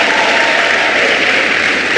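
A school gathering at an Irwin High School transition service cheers and applauds, a steady loud wash of clapping and crowd noise.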